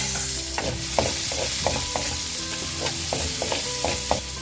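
Garlic and onion sautéing in a pan for Cebu-style pork rib caldereta, a dense continuous sizzle with regular spatula scrapes and taps against the pan, close and fairly loud, no voices.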